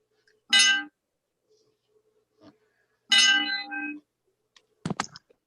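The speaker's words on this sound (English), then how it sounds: "I got a thing that I just press a button and it goes ding" Two bright electronic dings from a push-button sound effect, each a short ringing tone with a brief decay, separated by a few seconds of quiet, followed by a couple of small clicks.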